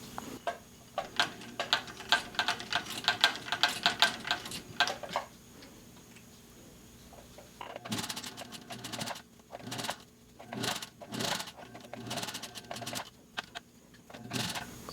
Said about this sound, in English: And always back stitch first.